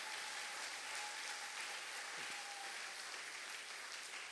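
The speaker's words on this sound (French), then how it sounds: "Est-ce qu'on peut applaudir pour ce Seigneur-là?" An audience applauds inside a church during a sermon, a steady and fairly faint wash of clapping that carries on evenly throughout.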